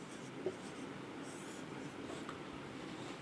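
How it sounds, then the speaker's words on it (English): Pen or marker writing out a chemistry equation example, faint continuous scratching strokes under a steady hiss of room noise, quiet and close, with no talking. "Let us write one example."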